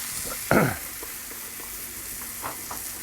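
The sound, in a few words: bone-in ribeye steaks searing on Kamado Joe grill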